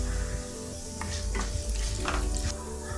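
Chana dal, urad dal, cumin, curry leaves and green chilies sautéing in a spoonful of hot oil, a steady close sizzle with scraping stirs and crackling pops throughout.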